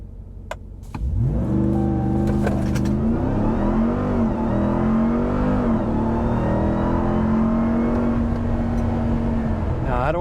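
A 2021 RAM TRX pickup truck roars hard from a standstill through a 0-to-60 run, its loud, steady engine note holding strong and rising slightly before easing off, with a voice heard over it.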